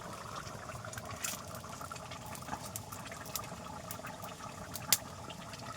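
Bubbling and gentle boiling from desi country chicken curry simmering in ground-spice gravy over a village clay oven, a steady close wet hiss with scattered small pops throughout.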